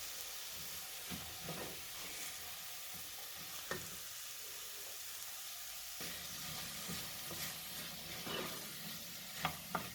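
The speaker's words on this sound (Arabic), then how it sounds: "هنا غنبدا نشحر كيف قلت لكم البصله وخيزو في دقه واحده" Onions and carrots sauté in a pan with a steady, quiet sizzle and hiss, broken now and then by soft stirring scrapes, with no voices.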